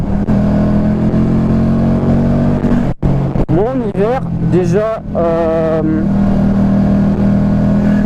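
A Honda Shadow motorcycle engine idles steadily through a cold winter warm-up, a low continuous rumble that runs the whole time beneath someone talking in French.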